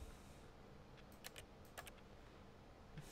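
Several faint keyboard key clicks, a brief cluster and then a lone press, from someone playing The Stanley Parable on a computer, over a quiet background hum.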